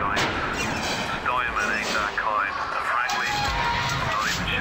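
A Tommy gun fires in Bioshock: dense, continuous bursts of loud gunfire with rattling reports and chaotic combat noise, while voices shout over the shooting throughout.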